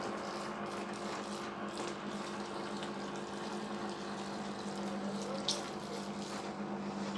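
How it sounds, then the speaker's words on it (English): Steady rush of a water jet spray washing an air conditioner at home, fed from a bucket with low water, a continuous hiss and splash with a pump-like hum underneath, fairly faint and unbroken. "So according to your needs, you just use the chain and make a gap and just spray it."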